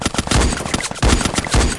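Automatic gunfire from Free Fire rattles in rapid bursts, with loud clustered shots at the start, just after one second and again near the end, and no voices over them.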